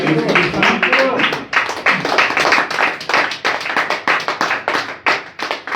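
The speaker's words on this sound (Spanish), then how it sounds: "Denle un fuerte aplauso" Worshippers at an evangelical church service clap loudly together, a close, uneven crackle of hands in rapid bursts with small pauses, rising and falling over several seconds.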